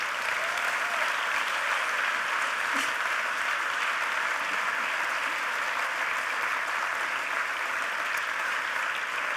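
Dense, steady applause from a gala audience rolls on evenly for several seconds, with no voices rising above it.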